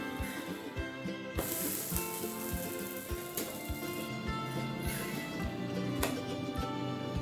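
An adai lentil pancake, just flipped, fries in oil in a pan, a soft continuous sizzle and hiss with scattered crackles and light taps, heard alone at low level.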